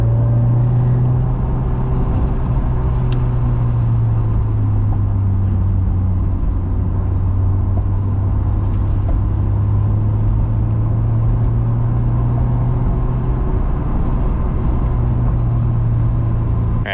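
A Honda S2000 on a race track during a first track day, following an instructor: a loud, steady engine drone with a strong low hum that holds throughout, the sound heard from inside the car, with no talking.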